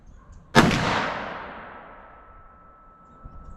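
A single loud gunshot from a Liberty Civil Defense .45 Colt round rings out sharply, followed by a long fading echo, with faint ambient noise before and a small thump near the end.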